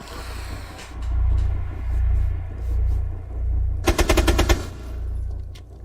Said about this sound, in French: Marche bien cette petite mitraillette là.